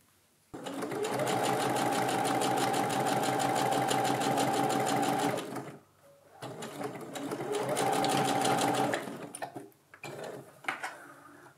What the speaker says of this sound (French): j'ai plus qu'à coudre endroit contre endroit d'abord le milieu devant à un des deux galons